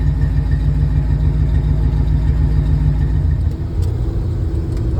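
A 1969 Ford F350 engine fitted with new long-tube headers idles steadily, producing a continuous deep, even rumble at close range with no voices over it.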